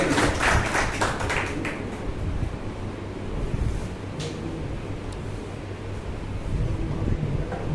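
Applause at a Rotary Club meeting during a district governor's official visit, a steady wash of many hands clapping, faint and somewhat distant, with low hall rumble.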